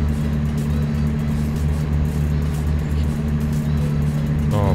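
A truck in American Truck Simulator pulls away with a steady, close, droning engine hum under load, loud and constant throughout.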